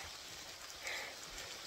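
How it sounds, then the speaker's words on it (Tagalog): Rain falling at a campsite on a mountain trail: a faint, steady hiss of drops pattering on surfaces, soft and continuous, with one slightly brighter splash near the middle and no voices. "It's raining."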